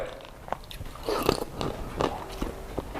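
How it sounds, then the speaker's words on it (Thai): Close, crisp bites and chewing on firm cooked shrimp from a tom kha dish, with several distinct crunchy snaps spaced out over quiet pauses and no talking. "สดมาก กุ้งกรอบครับอร่อย"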